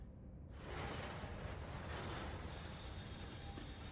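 A train in a video game rumbles steadily after a sudden start, with mechanical rattling and faint high squeals over the constant roar.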